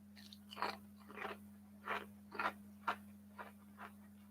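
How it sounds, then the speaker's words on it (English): Pale, uniform keto chips crunched while eating, a series of about eight distinct crisp bites and chews spaced roughly half a second apart, close and fairly quiet over a steady low electrical hum, with no talking. "It's not as hearty a crunch as a Dorito"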